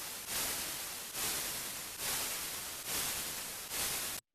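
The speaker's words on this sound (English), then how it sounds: "I'm going to just do a little bit of white noise" White noise layered into a synth drum pattern in Ableton: four loud, broad hiss bursts of roughly a second each, repeating in a steady rhythm with brief gaps, with no voices.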